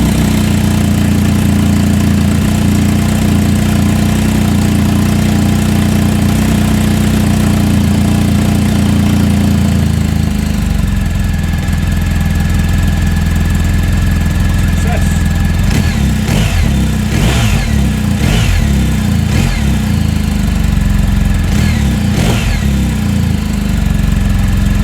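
A BMW GS1250 motorcycle engine with the exhaust flap removed idles steadily and loudly, then gets several sharp throttle blips in the second half, each rev rising and falling in quick succession with no talk.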